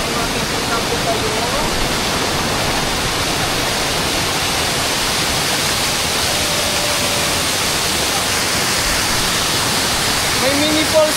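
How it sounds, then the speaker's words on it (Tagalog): A small mini waterfall on a mountain, which also serves as a water source, gives off a steady, loud rushing roar of falling water that fills the scene. "may mini falls po kami dito."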